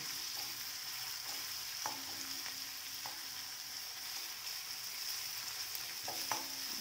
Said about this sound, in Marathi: आणि चांगला खमंग असा तेलात तो भाजून घ्यायचा